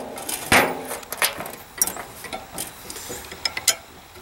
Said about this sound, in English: Pop the pins in here.